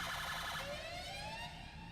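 A UK police car siren in the video game GTA V wails loudly in rising and falling sweeps, shifting into a faster, higher warble partway through. No voices.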